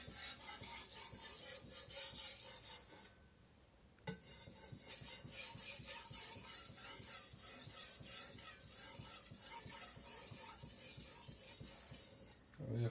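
An IKEA Chinese cleaver is sharpened on a whetstone, a close, rhythmic scraping of repeated strokes with a brief pause partway through, then the strokes resume.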